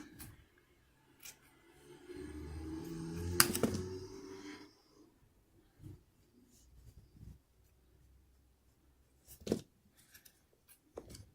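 Scissors snip the ends of hair during a haircut: a short burst of close crisp cuts early on, then scattered single snips with quiet gaps between them.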